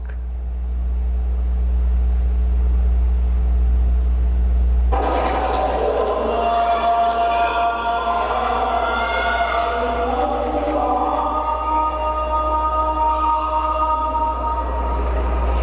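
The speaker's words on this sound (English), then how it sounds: "This is the sound of the Umayyad Mosque." Steady low hum, then about five seconds in a broad wash of ambience inside the Umayyad Mosque takes over: murmuring voices, prayer and reverberant crowd noise filling a large space.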